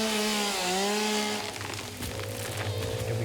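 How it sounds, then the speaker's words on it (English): Chainsaw cutting in the video game Satisfactory: a steady motor drone with a shifting whine that drops in pitch partway through, then a rougher grinding buzz, loud and continuous throughout. "It's a chainsaw, man."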